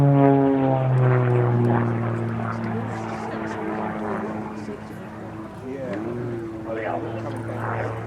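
A 300-horsepower aerobatic plane, an Extra 232, drones steadily with harmonic engine tones while tumbling through a display at Woodchurch in 2005, loud and continuous beneath a commentator's talk.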